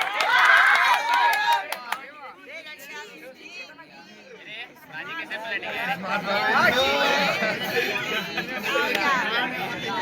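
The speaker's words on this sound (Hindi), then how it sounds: "अंजलि के लिए जोरदार तालियां।" Crowd at a school farewell ceremony cheers and claps for the cute-girl award winner, a dense mix of excited chatter, shouts and applause that dips briefly then swells louder toward the end.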